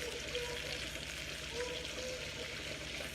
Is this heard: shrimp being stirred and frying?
yes